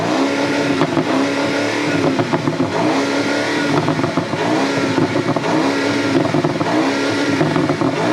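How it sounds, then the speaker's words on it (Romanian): A loud, close exhaust on a BMW Alpina B7 Bi-Turbo Allrad burbles and revs continuously, with a deep rumbling tone and repeated throttle blips. "Dar întâi o turăm să auziți evacuarea"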